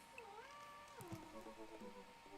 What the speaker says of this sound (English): that was the spare cat coming over and meowing at me